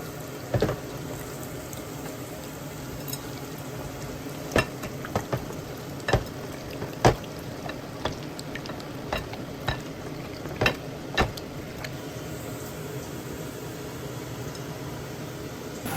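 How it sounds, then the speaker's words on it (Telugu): Mutton frying and being stirred with turmeric, salt, chili and ginger garlic paste, a steady sizzling hiss with scattered sharp pops and scraping stirs, close and alone with no talk. "ఫ్రై అవుతున్నాయి చూడండి. ఫ్రై అవుతుంది."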